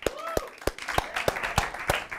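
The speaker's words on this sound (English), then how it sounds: "let's give them a round of applause" A small studio audience on a student TV talk show claps for correspondents, sparse, distinct hand claps at a steady rhythm over a couple of seconds, fairly close, with a faint voice underneath.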